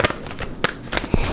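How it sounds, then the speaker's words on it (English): A tarot card deck being shuffled in a short, close burst of papery riffles and soft slaps, loud and dry with no voices. "2 more shuffles, please."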